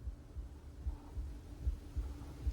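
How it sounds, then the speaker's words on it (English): Faint, low heartbeat thumps pulse in a steady double rhythm, about two beats per second, muffled and quiet over a soft hum with no talking. "heart beating. Goom goom. Goom goom. Goom goom."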